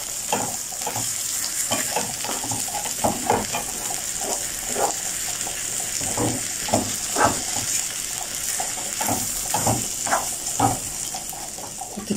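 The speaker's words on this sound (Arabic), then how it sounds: "اقلب بقى" Rice for sayadeya stirred and fried in a pot, a steady near sizzle punctuated by rhythmic scraping and stirring strokes every second or so.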